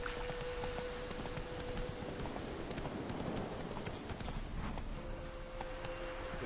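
Roach the horse gallops in The Witcher 3, a quiet steady run of hoofbeats under a constant soft wash of ambient game sound, with no talking.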